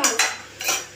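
A utensil clinks and scrapes against a pot while chicken curry ingredients with chili pieces are mixed, giving a few distinct close clatters with no voices.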